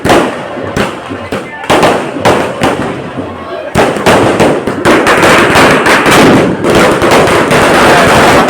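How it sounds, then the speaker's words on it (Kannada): Firecrackers burst nonstop at a Diwali village fair in Kumbarakoppal: loud, dense crackling and popping volleys fill the air, with a brief lull before the barrage grows even thicker and more continuous. "ಪಟಾಕಿ ಅಂತೂ ಹೆವಿ ಹೊಡಿತಾರೆ ಈ ದೀಪಾವಳಿ ಟೈಮಲ್ಲಿ ಕುಂಬಾರಕೊಪ್ಲಲ್ಲಂತೂ"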